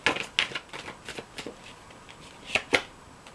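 A deck of tarot cards being shuffled by hand during a reading: crisp, riffling flutters and soft slaps close by, in irregular bursts with brief pauses, with no talking over them.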